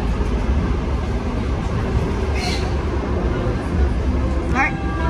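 Train running on rails on the line between Skirotava and Majori stations, a steady low rumble heard from inside the carriage, with a brief brighter squeal or rattle near the end.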